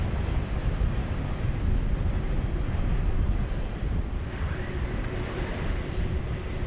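A jet airliner with General Electric CF6 engines roars steadily near Sydney Airport, a dense, loud broadband rumble that holds for the whole stretch without letting up.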